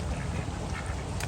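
A pet duck quacks, one short, fairly loud call close by.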